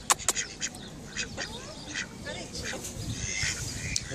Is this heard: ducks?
yes